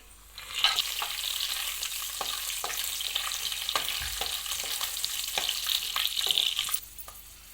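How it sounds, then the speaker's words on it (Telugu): Cashews and almonds fry in ghee with a steady close sizzle, while a spoon scrapes and stirs through the pan in short repeated strokes. "మనము నెయ్యి వేసుకోవాలి."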